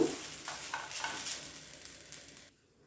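Ground coconut roasting dry in a pan, a soft rustling scrape of stirring with light crackle close by, steady for a few seconds before cutting off to near silence.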